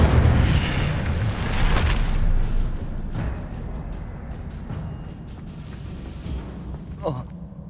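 Fire spell blasts from the video game Hogwarts Legacy, with a broad booming burst early on followed by a rumbling, crackling wash and a few later sharp pops, loud and close over continuous game noise.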